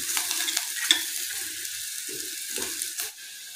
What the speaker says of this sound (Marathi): कांदा चांगला लालसर परतून घेऊया।